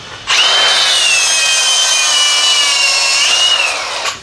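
A tool whines steadily at close range for about four seconds while cutting and stripping the insulation off a worn-out welding cable for scrap copper, starting and stopping abruptly, with no talk.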